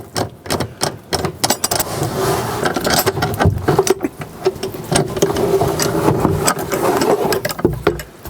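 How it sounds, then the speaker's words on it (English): A power driver drives screws into plywood while a Fiamma Porta Kassett carrier is being fitted, giving repeated close whirring bursts with short gaps and some clattering between them. "Before I put the rest of the screws in."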